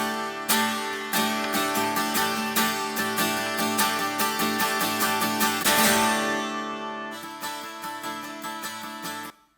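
Acoustic guitar in Nashville tuning, its high-octave strings giving a bright, jangly, chiming tone, played alone as a track for a cover song: a steady run of rhythmic strummed chords with ringing sustain, ending in a brief fade.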